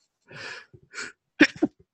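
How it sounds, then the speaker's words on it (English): A sharp sneeze bursts out after a soft, breathy lead-in, followed by a quick second burst, close and fairly loud against near silence. "sneezing during Gesha, how rude"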